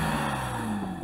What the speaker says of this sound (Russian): А теперь быстренько сравним звучание их моторов.